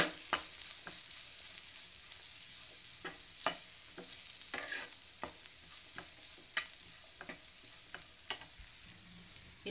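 Onion spice filling for Rajasthani onion kachori fried and stirred in a pan, with repeated spoon scrapes and clinks over a quiet, steady sizzle, no voices.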